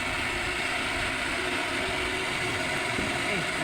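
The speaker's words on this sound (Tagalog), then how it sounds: "Swing motor. Boom truck." The swing motor of a Unic boom truck runs as a loud, continuous mechanical drone that stays constant with no pauses.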